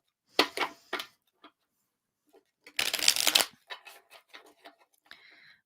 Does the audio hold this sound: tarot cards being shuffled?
yes